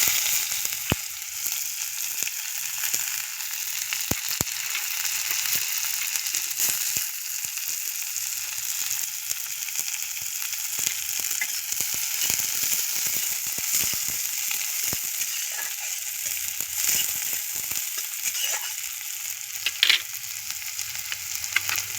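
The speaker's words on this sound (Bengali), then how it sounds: "এটা একটু ভেজে নেব। দিয়ে দিলাম পেঁয়াজ কুচি" Chopped onion frying in a pan for a bitter gourd dish, giving a continuous bright hiss and crackle that runs steadily throughout, close up with no voices.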